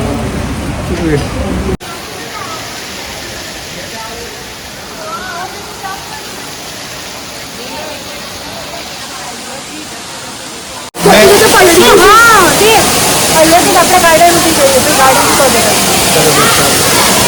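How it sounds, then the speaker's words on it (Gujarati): Heavy rain pours down outside a college during a seminar visit, a dense steady hiss that turns louder and closer partway through, with people talking over it. "સિરિયસલી બહુ જ વરસાદ છે."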